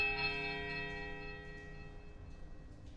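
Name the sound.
bell ringing in the video game Pillars of Eternity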